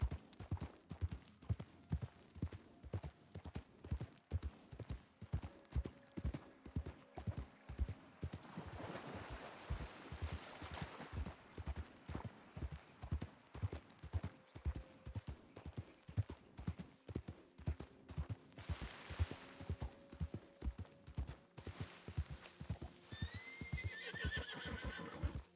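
A horse in the Red Dead-based roleplay game WildRP gallops with fast, even hoofbeats that continue throughout. It whinnies loudly a couple of times and neighs again near the end, with no clear speech.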